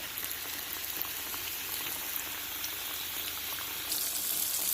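Fish frying in hot oil in a pan, a continuous soft sizzle and crackle with faint pops, quiet and even throughout with no voices.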